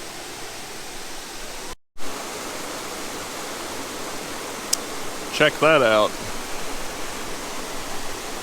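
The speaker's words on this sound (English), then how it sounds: "Talk about a waterfall." Steady broadband roar of Crevice Falls waterfall fills the clip, with a brief dropout and a voice speaking briefly over the rushing water.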